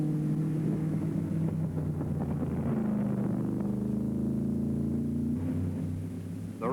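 Racing cars from the 1964 Road America 500 thunder past on the Wisconsin road circuit, a loud sustained engine roar with shifting pitch as machines including Jim Hall's Chaparral sweep by close.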